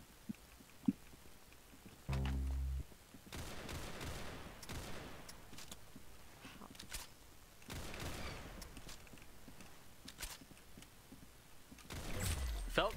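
Gunfire in a video game, with bursts of rapid shots and a few heavier booms spread through the clip at a modest level, under and between stretches of quiet talk.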